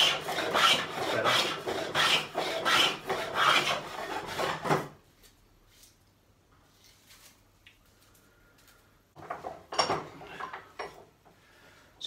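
A rebate plane cuts a rebate and small chamfer along a wooden edge, giving quick, rasping push strokes nearby, then a quiet pause before another short run of strokes.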